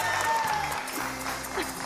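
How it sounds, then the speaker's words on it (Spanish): A studio audience on the Argentine game show El Precio Justo applauds, a steady, dense clapping that swells early, eases slightly, then continues, with a faint tone running beneath it. "Fuerte el aplauso para los dos"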